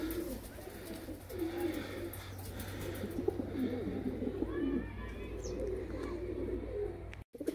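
Pigeons cooing at a pigeon fancier's loft, soft low coos rising now and then over a steady busy background of rustling and distant chirps, fairly faint and continuous with no talk.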